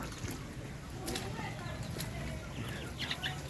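Darag native chickens on a farm cluck and call faintly in the background, with wing flaps and scattered bird sounds among a murmur of rural ambience, while someone speaks over them.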